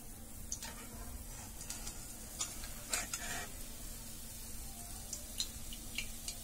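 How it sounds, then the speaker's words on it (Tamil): Gulab jamun balls deep-frying in oil, a steady quiet sizzle with scattered soft bubbling pops and occasional utensil clinks, alone without speech. "இந்த மாதிரி எல்லா உருண்டைகளையும் நான் பொறிச்சு உங்களுக்கு காட்டுறேன்"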